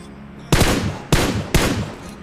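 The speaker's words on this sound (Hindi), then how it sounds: "जो फायरिंग साउंड होते हैं वो अपार्टमेंट से आ रहे होते हैं" Gunfire in a battle royale video game: three loud, sharp bursts in quick succession, each one cracking and then trailing off.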